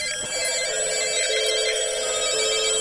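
A telephone rings with a continuous, bright electronic trill that is loud and steady throughout, with no voices over it.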